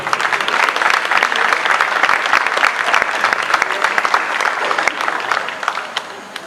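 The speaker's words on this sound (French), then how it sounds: "Je vous demande un tonnerre d'applaudissements pour Vera, s'il vous plaît." An audience at a fashion show breaks into loud, sustained applause, with a dense wash of many hands clapping that fades slightly toward the end, and a little crowd noise mixed in.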